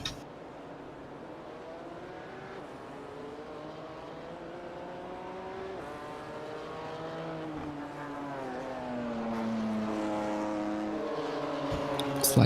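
A race car in the iRacing sim pulls out of the pits at Road America during a ChampCar endurance round, its engine revving up steadily through rising gear sweeps, loud and continuous with no talking.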